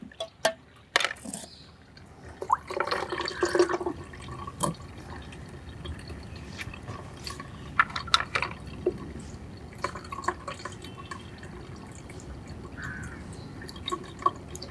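Paste of ground bitter gourd mixed with water is strained, giving wet drips, splashes and a few clinks of a vessel, sparse and close, with long quiet stretches in between.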